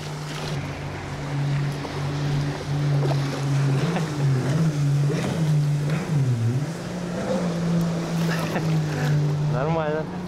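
A jet ski roars past near a kayak on the water around Kaliningrad, its engine droning loud and close with a wavering pitch that rises and falls as it passes, over wind and lapping water, while people speak briefly nearby.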